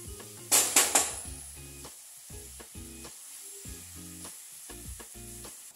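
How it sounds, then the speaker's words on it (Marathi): Coconut barfi mixture being stirred and dried out in a pan, with a few loud scraping strokes at the start, then soft repeated scrapes and a low sizzle at a measured rhythm. "अजून 2 ते 3 मिनिट आपण असंच हलवून घेऊ।"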